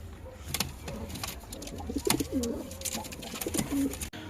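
Newly brought-home pigeons coo softly in repeated throaty phrases at close range, with a few wing flutters and scuffs over quiet background noise.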